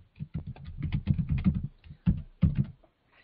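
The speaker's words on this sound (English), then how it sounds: "I'm going to go ahead and sign in. And enter my password." A password is typed on a computer keyboard in one fast run of close, crisp key clicks, with a brief pause partway through and a couple of final taps at the end.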